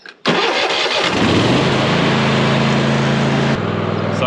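A riding lawn mower's engine cranks briefly, catches and roars up loud, then settles into a steady, fast idle as it warms up, close by and continuous.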